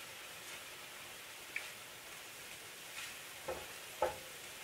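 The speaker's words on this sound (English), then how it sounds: "We can continue to saute just a minute or so longer" Meatloaf ingredients being sautéed in a pan: a soft, steady sizzle with a few sharp scrapes and clinks from the stirring utensil, close by but fairly quiet, with no talking.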